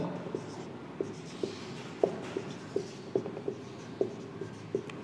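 Marker or chalk taps and strokes across a board while a number is written out, a series of short rhythmic knocks and scrapes, close and moderately loud, no speech.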